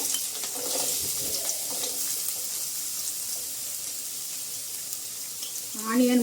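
Mustard seeds and carrot pieces frying in hot oil in a pan, a steady close sizzle and crackle that runs throughout, with a brief clatter near the end.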